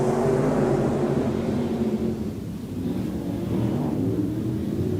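Stock car engines roar and rev at Off Road Speedway as the field launches to the start, a steady loud broadband drone that dips slightly midway and swells again.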